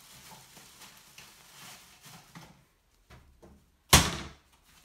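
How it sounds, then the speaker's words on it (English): A single loud slam rings out after several quieter knocks and clatters, with some faint voices earlier on. "Quit slamming stuff."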